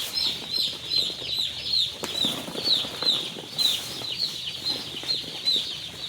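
A brooding house full of about a thousand broiler chicks in winter, with continuous high-pitched peeping and cheeping repeating rhythmically, plus faint flutters and shuffling in the background.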